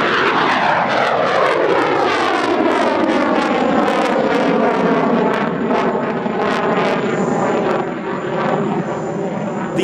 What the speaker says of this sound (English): here's India's own light multi-role fighter, the Tejas Mark 1